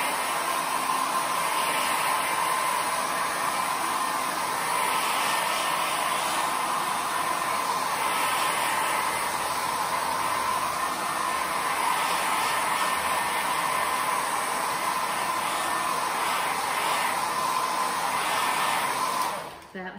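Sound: dryer drying a layer of acrylic paint

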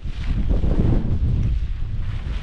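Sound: strong wind at a stormy lakeside wild camp

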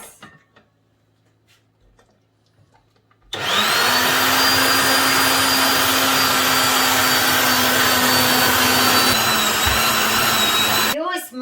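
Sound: electric meat grinder mincing vegetables for adjika

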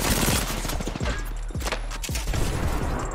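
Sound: gunfire from a video game

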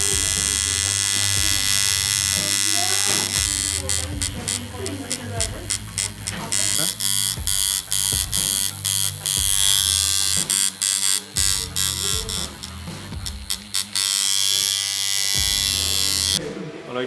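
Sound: tattoo machine buzzing

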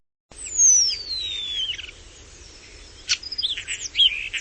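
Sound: common starling singing

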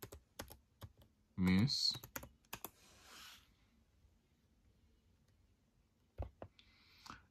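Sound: typing on a Chromebook keyboard

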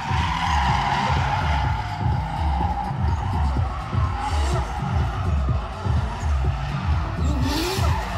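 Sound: drift cars skidding in tandem at a motor show

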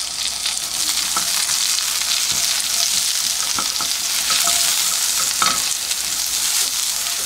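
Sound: stir-frying lion's mane mushroom with carrot in oil

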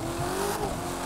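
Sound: Corvette Stingray race car accelerating in video game The Crew 2

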